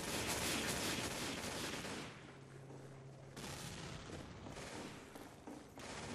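Video game gunfire during a live match, dense bursts of rapid shots with booming blasts, harsh and continuous at first, easing briefly before another volley erupts, heard at low overall level.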